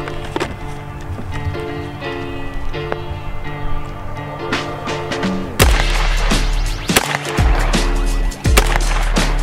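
A 5.56 rifle fires a 62-grain round from a 16-inch barrel at a Level 3+ body armor plate. A sharp, loud bang cuts in about midway, followed by a few further hard thumps against steady background noise.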